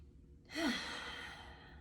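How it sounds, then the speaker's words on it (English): A single deep exhaled breath, a soft breathy sigh that rises in the middle and fades out slowly, heard close and quiet with no talking. "Deep breath."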